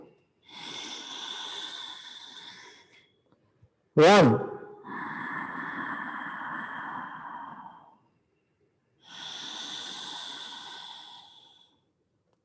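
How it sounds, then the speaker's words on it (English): Loud, breathy exhalations in a yoga session come in long sounded breaths, three in all, with a sharp snort-like burst in between and a brief spoken count. "Breathing with sound."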